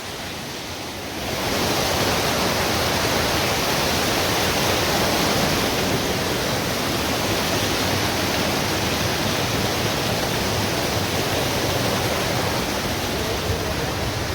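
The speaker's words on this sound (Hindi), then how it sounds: "एक और खतरनाक भीषण पानी, तो इसे भी क्रॉस करना है" A dangerous, fast-flowing mountain stream on the alpine trek to Satopanth Lake, heard at night while being crossed, roars close and loud as a steady, dense wash of water noise that surges in after a second and never lets up.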